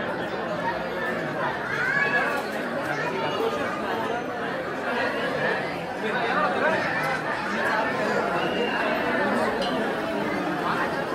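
A thick crowd of devotees waiting in line at the Ekvira temple at night, with a constant babble of overlapping voices around and close by, swelling slightly at times but never letting up.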